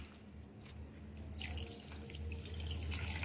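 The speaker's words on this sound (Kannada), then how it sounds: "1 ಗ್ಲಾಸ್ ನೀರು ಹಾಕಿ" A glass of water is poured onto millets to soak them, a soft trickling splash that grows toward the end over a low steady hum.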